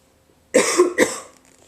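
A woman gives two quick, close coughs in a row, sharp and throaty, then the room falls quiet.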